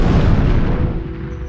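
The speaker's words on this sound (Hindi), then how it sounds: "अचानक एक जोरदार धमाका हुआ" A loud, deep explosion booms close by inside a house in a Ramadan horror story, its low rumble decaying over about a second with no voices.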